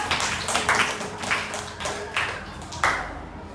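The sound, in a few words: class clapping for a student group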